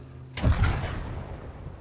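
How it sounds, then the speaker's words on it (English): A single bomb blast in a World War II Call to Arms battle at Kursk: one sudden heavy boom followed by a long rumbling decay, close and loud, with no talking. "Hopefully this bomb will still kill the crew."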